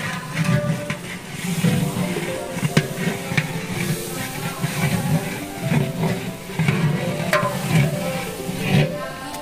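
Chili hits hot oil in a pan during cooking for a family Akika celebration, sizzling continuously while a utensil stirs with rhythmic scraping clatters, moderately loud and close.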